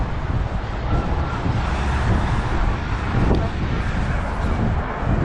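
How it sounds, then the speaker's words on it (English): Strong, steady wind buffets the microphone at an outdoor amusement park, a continuous loud low roar with gusting swells throughout and no break. "it's proper windy today"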